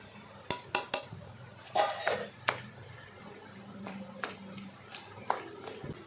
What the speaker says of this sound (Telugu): ఇవన్నీ ఇప్పుడు మనం ఈ ఫస్ట్ నూరుకున్న జీలకర్ర, వెల్లుల్లిపాయలు, ఉప్పు కలిపేసుకోండి